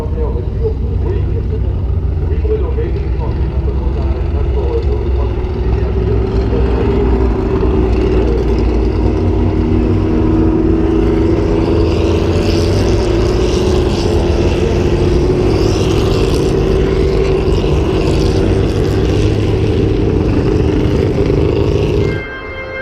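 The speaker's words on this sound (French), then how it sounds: "ce plateau 4 qui est de 62 à 1965 avec notamment les AC Cobra et les GT40 que vous voyez arriver maintenant" AC Cobra and Ford GT40 racing cars from the 1962–1965 grid at Le Mans Classic 2018 roar past in a loud, sustained engine drone that swells toward the middle and holds, with crowd or commentary noise mixed under it.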